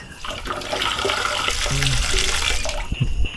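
Water runs steadily from a tap into a basin in a campsite comfort room during a storm, a continuous hissing splash with faint clatter near the end.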